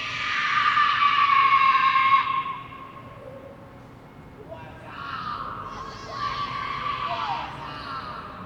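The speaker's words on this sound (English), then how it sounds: "Those people are screaming." Shrill screaming from a crowd of people inside the Circus Circus casino in Reno rings out loudly at first, then fades and returns in fainter bursts over a murmuring background.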